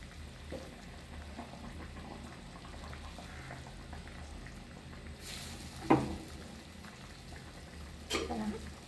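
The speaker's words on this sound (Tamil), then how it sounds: "இப்போ நல்லா கொதிக்குது" Low, steady bubbling of a pot of seela fish curry on the boil, with a couple of brief louder clatters near the end.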